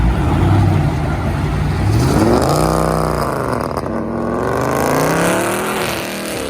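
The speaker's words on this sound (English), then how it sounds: "Oh, that turbo sound good." A turbocharged muscle car at a car meet, its loud engine revving up and holding with a rising, sweeping whine and roaring exhaust, close and sustained with no voices heard.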